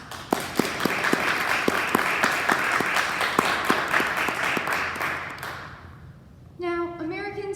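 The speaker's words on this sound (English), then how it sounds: "let's give both of the candidates a big round of applause" An audience of students applauds the candidates at a school mock election debate, loud sustained clapping with distinct individual claps that fades out, after which a voice comes in.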